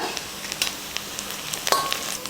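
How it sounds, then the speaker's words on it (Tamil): A large onion, two green chilies and curry leaves fry in hot oil in a pan, giving a quiet, continuous sizzle broken by small crackles and light scraping stirs. "எண்ணெய் காஞ்சதுமே ஒரு பெரிய வெங்காயமும் 2 பச்சை மிளகாயும் சேர்த்துக்கலாம்."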